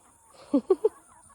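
Three short, close clucks from a chicken in quick succession, then quiet.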